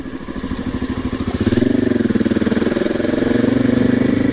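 A motorcycle engine running with the clutch pulled in while coasting through a corner, a close, throbbing pulse that rises slightly in pitch and loudness midway, steady and unbroken without speech.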